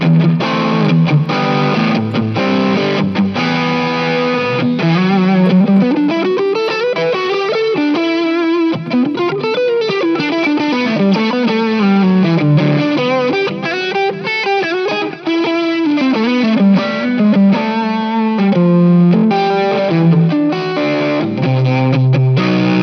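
Electric guitar on a Harley Benton with swapped pickups, played through a Blue Strawberry overdrive pedal: a loud, sustained, driven melodic line with bends and slides, continuous and unaccompanied, no talking.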